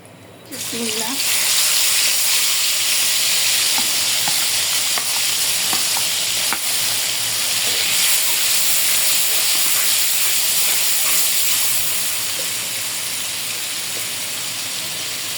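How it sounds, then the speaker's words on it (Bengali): Spice paste of ground cumin, coriander, ginger, garlic, onion and dried chilli sizzles and hisses steadily in a hot pan for a fish and cauliflower curry, a loud continuous fry throughout with faint stirring scrapes. "পেস্ট মশলাটা একটু ভালোভাবে কষাই নেব"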